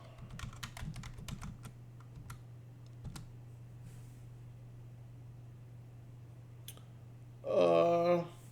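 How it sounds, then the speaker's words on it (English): Quick, close bursts of computer-keyboard typing at the start, entering a Linux command, followed by a few isolated keystrokes over a steady low hum and a short loud burst of noise near the end. "I'm gonna type localhost."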